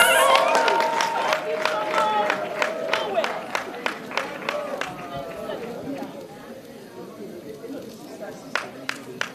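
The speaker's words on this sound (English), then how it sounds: "When I clap for her, Congratulations to Victor." Audience applause at an environmental reporting awards ceremony, a burst of clapping that thins into scattered claps and fades, with voices talking over it.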